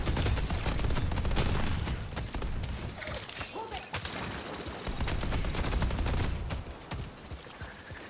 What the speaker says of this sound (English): Putting down a turret.